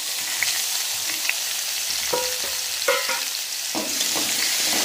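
Chopped tomato hitting hot oil with ginger paste in a pan for mixed vegetable dal, a steady close sizzle broken by scraping stirs and clacks of a spoon against the pot.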